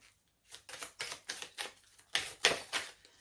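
Oracle cards being drawn and shuffled from a deck, a quick series of about ten soft close-up papery flicks and taps, alone and fairly faint.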